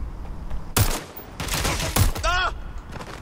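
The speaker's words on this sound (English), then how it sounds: "I don't think I was supposed to just start randomly firing on them." Sharp gunshots ring out in Watch Dogs: Legion, a few loud, close bursts within a few seconds, with a voice briefly in between.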